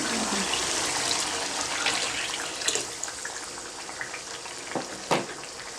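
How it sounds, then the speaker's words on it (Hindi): Water poured into a pan of frying vegetables for peas, carrot and potato pulao, a steady broad hiss and sizzle with a few brief splashy bursts, close and fairly quiet, no talking. "अब पानी डालना है इसमें।"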